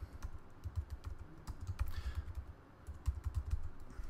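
Fast, light keystrokes on a computer keyboard as asterisks are entered into a folder name. The clicks come in quick, uneven runs, soft and close, with no talk.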